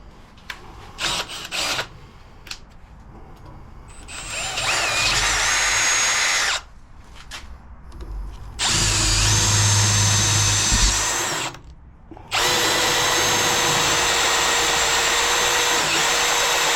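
Power drill spinning a larger drill bit at slow speed during a Dynatrac Pro Rock axle build, loud, steady whirring in three long sustained runs separated by short pauses, after a few brief clicks and bumps.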